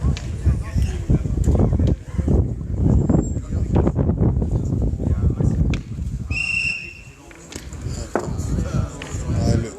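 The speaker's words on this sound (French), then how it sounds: "Le coup de sifflet pour annoncer la dernière mène au moment où il tire" A short, sharp referee whistle blast signals the last end of a pétanque quarter-final, ringing out over ongoing commentary and crowd murmur, fairly loud and clear against the background chatter.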